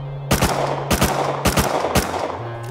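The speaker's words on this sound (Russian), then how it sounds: "Сколько выстрелов нужно сделать с питона, чтобы ее разбить?" Four loud, sharp gunshots from a Python revolver fired at a turret in a shooter video game, spaced roughly half a second apart, each with a short echoing tail over a steady low game hum.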